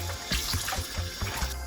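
Tap water runs into a sink while goat meat is washed, a close, steady splashing stream with small irregular bursts and knocks, no voices.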